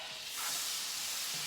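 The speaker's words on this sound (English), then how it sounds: "sizzling away" Butter and a generous amount of black pepper sizzle quietly in a pan on the stove, a soft, even hiss running steadily through the brief moment with no talking.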